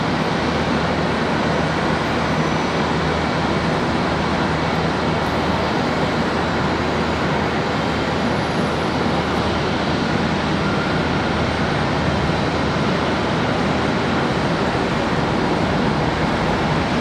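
An American Airlines airliner's engines run at Charlotte Douglas International Airport, a steady, dense broadband roar held at constant loudness throughout, with no voices.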